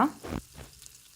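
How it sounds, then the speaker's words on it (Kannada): Mustard seeds, curry leaves and peanuts fry in hot oil inside a pressure cooker, giving a short, soft sizzle with a couple of faint crackles that quickly tapers off. "ಒಂದು ಕುಕ್ಕರಲ್ಲಿ ಸ್ವಲ್ಪ ಎಣ್ಣೆಯನ್ನು ಬಿಸಿ ಮಾಡಿ ಮೊದಲು ಸಾಸಿವೆ ಕರಿಬೇವು ನೆಲಕಡಲೆ ಬೀಜ"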